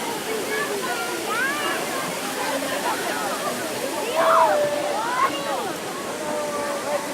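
A steady rush of falling water at Turner Falls, Oklahoma fills the background while voices talk over it throughout.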